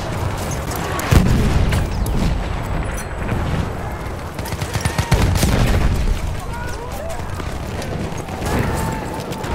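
Grenade blasts and machine-gun fire in a video game battle, a dense, continuous barrage of bursts and booms with a sharp loud blast just past one second and another around five seconds, with shouting voices mixed in.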